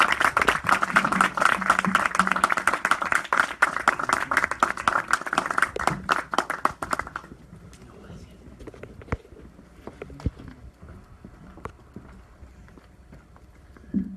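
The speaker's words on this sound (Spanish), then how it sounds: "Recibamos con un aplauso al sociólogo y periodista Juan Cruz Trifolio." Dense applause from a conference audience fills the first half, then fades into scattered claps and quieter room noise.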